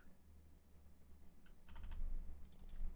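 Computer keyboard keys are tapped for shortcuts: a few scattered light clicks, then a short quick cluster of keystrokes and a final burst near the end, close and fairly quiet over faint room hum.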